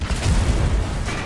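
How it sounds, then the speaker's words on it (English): A loud, deep explosion from the Kingdom Hearts 3 video game, a single dense rumbling blast lasting just over a second with no voices. "Mass explosion."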